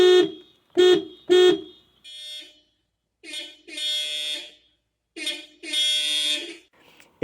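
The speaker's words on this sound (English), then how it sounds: "the horn sounds like it's from a golf cart or an old VW Bug" A Toyota 86 GT's thin, nasal horn honks alone: three short quick beeps, then several longer blasts of varying length with silent gaps between, sounding close and clear.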